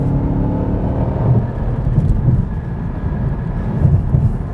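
A 2010 Cadillac CTS-V accelerates hard up a highway on-ramp, its engine a loud, steady low drone that stays thick and continuous throughout, with faint road and wind noise over it.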